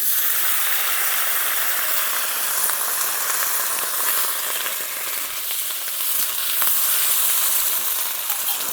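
Chopped onion stalks fry in hot oil with dry red chillies and black cumin, giving a steady, loud, close sizzle and hiss that holds throughout, with faint crackles scattered through it.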